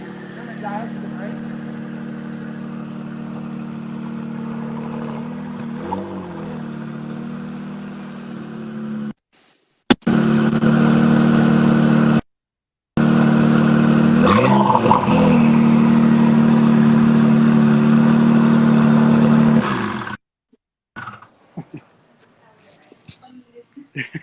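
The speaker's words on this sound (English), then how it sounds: "We're getting a startup on the Nsx, guys. She's gonna start it up for us, and I'll go ahead and come back here so you can hear it." A twin-turbo Acura NSX engine starts and runs at a steady, loud idle close by, with rev changes, a brief cutout and a restart, while people talk beside it.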